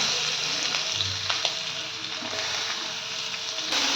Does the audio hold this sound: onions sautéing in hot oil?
yes